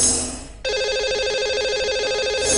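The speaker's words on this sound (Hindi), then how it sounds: "ये लगाते हैं सबसे पहले लक्की कॉलर को नंबर" Telephone line tone while calling a lucky caller on a radio show, a brief fading tone then a steady, loud pulsing ring that continues to the end.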